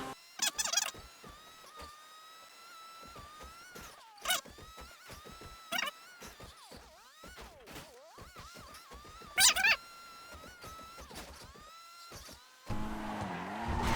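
A car in a video game drives fast with repeated tire screeches and revving engine tones, close and loud, with a burst of harsher noise near the end.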